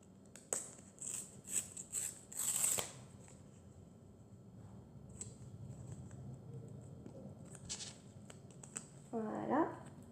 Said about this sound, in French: c'est une carte tout à fait normale, d'accord, qu'on va déchirer.